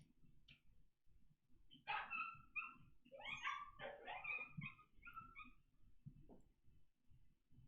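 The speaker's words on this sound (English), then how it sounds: "Sounds like the dogs next door are fighting." Dogs next door fight and bark, a faint, distant flurry of overlapping yaps, snarls and sharp barks that lasts several seconds, heard through a quiet indoor room.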